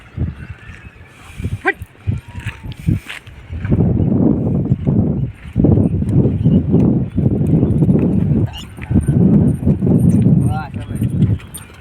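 A ridden Kathiyawadi horse clip-clopping, with rhythmic hoof beats in bursts over a rumbling background, under frequent loud talking nearby.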